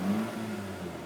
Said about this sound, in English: Car revs real easy, runs through the RPMs fairly quick.